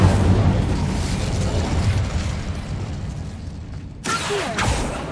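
An Incendio fire spell from Hogwarts Legacy roars out as a loud, sustained blast that slowly fades over four seconds before a sharp new burst of crackling flame cuts in near the end.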